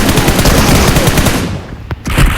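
Rapid automatic gunfire in a mobile shooter video game, a loud burst of close shots that stops, then a few single shots follow.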